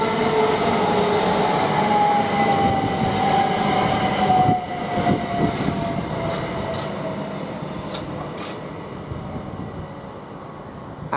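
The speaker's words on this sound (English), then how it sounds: "we're getting another Southeastern service with the 11:38 from Dover to London Victoria" A Southeastern class 375 electric unit, 375711, runs through Rochester station with a loud rumble of wheels and a gliding whine that falls in pitch, the noise easing off toward the end and no voices.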